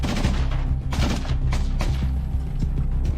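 Gunfire in a Ukrainian frontline battle, a dense continuous barrage of shots and heavy thuds, loud and overlapping with no pauses throughout.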